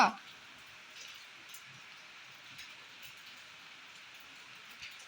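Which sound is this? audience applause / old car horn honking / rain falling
rain falling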